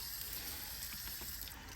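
Water rushes steadily from the filter flush outlet of a pressure washer rig, a constant, even hiss of gushing flow with no pauses.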